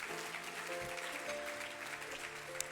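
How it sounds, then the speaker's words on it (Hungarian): Church congregation applauding steadily throughout, a dense sustained clapping with some murmuring voices underneath. "És tapsoljuk akkor meg az Urat!"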